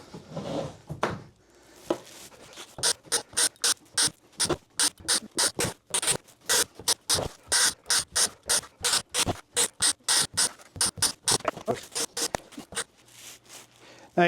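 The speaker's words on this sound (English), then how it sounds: "I'm going to go ahead and put all the screws in these." Screws being driven into a 3D-printed hobby paint booth, a long series of short, evenly spaced ratcheting bursts, close and crisp, with brief talk at the start.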